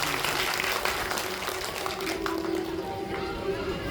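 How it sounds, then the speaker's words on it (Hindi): An audience at a Bhagavat Katha religious festival claps loudly and continuously for the devotees, with a thick wash of applause and faint voices and chatter mixed in. "जोर से ताली बजा दीजिए भक्त भगवान के लिए।"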